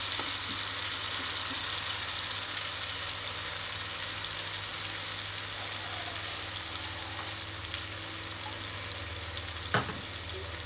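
Blended garlic, shallot, bird's eye and red chili, tomato, candlenut and broth sautéing in a pan, a steady loud sizzle and fry throughout with a brief stir knock near the end, no voices.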